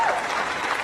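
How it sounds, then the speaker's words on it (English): Brief burst of audience applause at an astronaut crew announcement event, a smooth, steady wash of clapping with faint voices underneath. "Yeah, you can clap for that."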